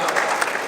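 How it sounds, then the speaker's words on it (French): Brief burst of audience clapping for the mayor of Rosny-sous-Bois on his birthday at a mayors' trade fair gathering, a steady patter of hands lasting under a second. "Vous pouvez l'applaudir, c'est son anniversaire."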